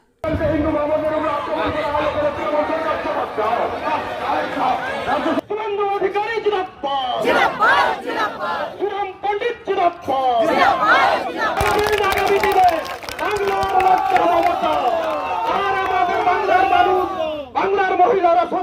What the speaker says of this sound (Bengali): মিছিল করে পুলিশ সুপারের অফিস ঘেরাও করে বিজেপির নেতা কর্মীরা